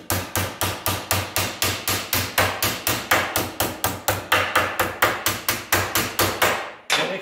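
Rapid, evenly spaced hammer blows on sheet metal for an electric fan shroud, about thirty sharp ringing strikes in a steady rhythm, close and loud, ending with a brief pause and one final hit.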